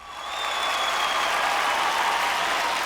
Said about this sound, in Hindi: तो नारी शक्ति के लिए एक बार जोरदार तालियां हो जाएं